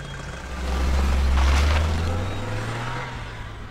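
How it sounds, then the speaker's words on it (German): A heavy tractor engine rumbles loudly past, swelling and then fading over a few seconds as the tractor drives by close. "Das ist doch Bauer Weindl da auf dem Traktor."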